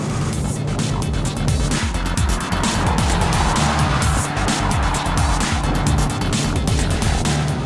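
A high-performance car accelerates on a drive with a steady, loud engine roar and road noise that persists throughout, no pauses or voices.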